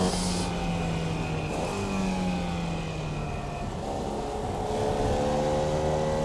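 Formula Vee race car with a roughly 70-year-old Volkswagen engine in iRacing, revving high near 7,000 RPM, a continuous loud engine whine with pitch sweeping up and down through gear changes.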